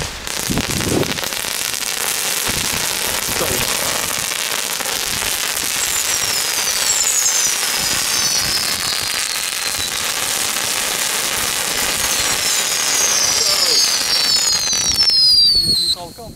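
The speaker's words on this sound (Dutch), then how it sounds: "Het eerste stuk vuurwerk van 2021 die we op video afsteken." Funke fireworks burn outdoors with a steady, loud crackling hiss and thin whistling streaks, like fountains showering sparks, lasting throughout before cutting off.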